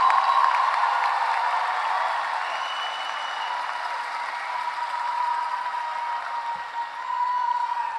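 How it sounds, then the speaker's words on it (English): Audience applause for the graduates at a high school commencement, a broad steady wash of clapping from a large crowd that holds fairly even throughout, dipping briefly near the end before swelling again. "Big round of applause for the graduates of"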